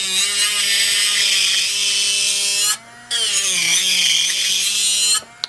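Portable nail drill with a coarse safety bit spinning at speed setting 20, giving a loud, high, steady whine close up that cuts out once briefly and then resumes, with no voice present.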